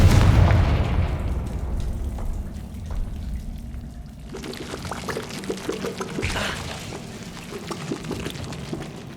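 A Confringo fire spell from Hogwarts Legacy bursts with a heavy booming explosion, its roar decaying into crackling debris, followed by several smaller pops and rumbles of fire in a quiet game environment.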